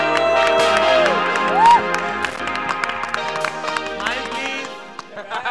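A crowd at a Hindi film trailer launch cheers, whistles and claps as the movie's writers are called to the stage, loud and sustained with a rising whistle and shouts over a music bed.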